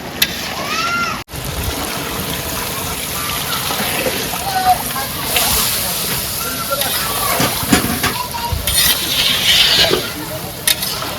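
Goat meat sizzles and hisses in a hot pot as water goes in, with steady frying noise, bursts of steam and stirring scrapes throughout; a voice talks faintly underneath.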